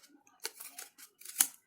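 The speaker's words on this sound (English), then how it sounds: "just take off your scissors and just clip it" Scissors snip along the uneven edge of a cardstock twist-and-pop-up card, several quick close crisp cuts spaced through a quiet room, the last one sharpest.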